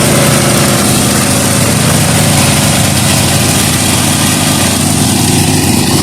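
A pull-behind lawn mower's small engine runs steadily without its deck attached, a continuous loud idling drone with mechanical vibration filling the whole stretch, no voices over it.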